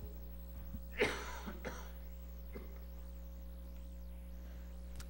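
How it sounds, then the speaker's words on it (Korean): A single faint cough during a church sermon stands out against a low steady electrical hum, followed by a couple of softer, barely audible throat sounds. "주책 없이 기침이 나옵니다."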